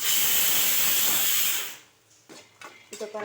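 Groundnuts roasting in a pan for chutney, a loud broad hiss for about a second and a half that cuts off abruptly, followed by a few light clinks and scrapes.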